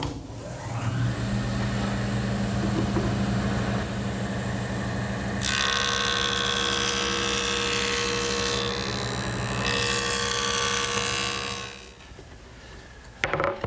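A jointer runs with a steady motor hum, then its cutter bites into the back edge of a sanded wooden panel for a loud, sustained planing pass of several seconds before the pitch falls back to the idle whine.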